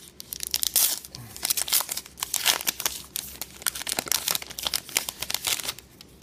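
Crinkly plastic foil of a 2016 Allen & Ginter baseball trading card pack being torn open and crumpled, a close, busy stream of sharp crackles and rips lasting several seconds with no talk.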